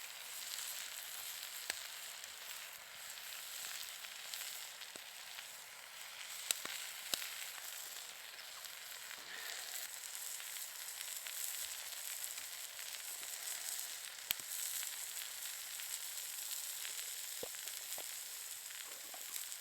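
Steak and wild mushrooms sizzle on a wood stove outdoors in the snow, a steady close hiss of frying with faint scattered crackles and pops running throughout, no talking.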